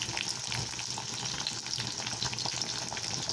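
Chopped garlic and small shallots frying in oil for an eggplant kuzhambu, a steady close sizzle and crackle with faint stirring, no voices.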